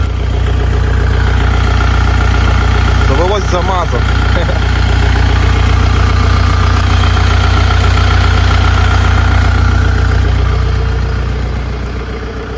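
A Scout 404C tractor engine idles steadily with a loud, low rumbling drone; a voice speaks briefly partway through.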